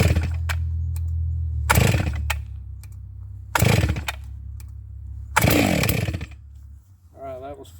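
A Neotec NS892 chainsaw, a Stihl MS660 clone, idles roughly near by and rips into three loud full-throttle revs, each dropping back to a chugging idle, with a short spoken voice at the end.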